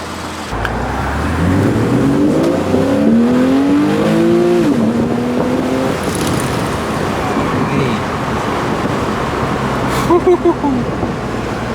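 A Porsche 911 pulls away and accelerates hard, the engine rising in pitch with a few sharp, abrupt gear shifts, then settling into a steady road rumble heard from inside the car.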